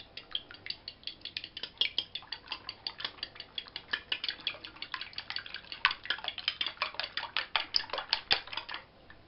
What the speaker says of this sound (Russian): Сейчас немножко взобьем 4 яйца наших.